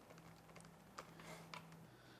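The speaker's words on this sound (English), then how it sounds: "For membrane keys, I even kind of like the sound of them." Soft, quiet keyboard clicks tap irregularly in a small cluster, muted keystrokes of a Lenovo 14m Chromebook's membrane keyboard with a faint steady hum underneath.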